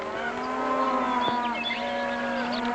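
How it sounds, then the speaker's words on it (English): Cattle low on a ranch in a 1948 western, a loud close moo that holds a long steady tone with rich harmonics for nearly three seconds, alone with no talking over it. "Those sure are fine-looking cattle you got there, Hoppy."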